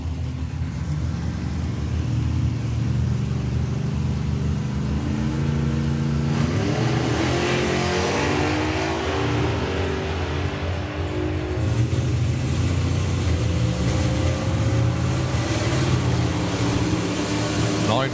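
A Super Gas drag racing car makes a pass with a 9.90 dial-in. Its loud engine roars and revs throughout under an announcer's commentary, with crowd and track noise around it.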